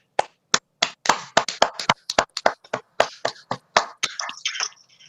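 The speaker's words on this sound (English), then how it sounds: "can we give a hand of applause to these kids?" Scattered clapping at an inauguration event rewards performing kids: a small number of sparse, separate claps in an uneven rhythm, close and fairly crisp, thinning out toward the end.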